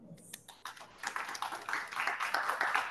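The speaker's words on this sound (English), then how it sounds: "Let us all welcome and give a round of applause to Ms. Tony Fernandez." A seminar audience applauds a presenter, starting with a few faint, scattered claps and quickly building into a quiet, steady patter of light clapping.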